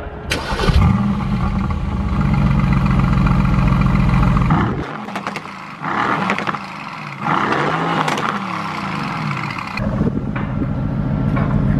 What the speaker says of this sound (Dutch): Dus we gaan even de uitlaat laten horen.